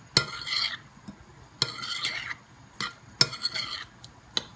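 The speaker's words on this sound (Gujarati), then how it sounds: "આને આપણે ફાઇન રીતે મિક્સ કરી નાખશું કે બધું ફાઇન રીતે મિક્સ થઈ જાય" A spoon stirs and scrapes spice mix in a bowl for fish tacos, giving four separate bursts of clinking and scraping with short quiet gaps between them.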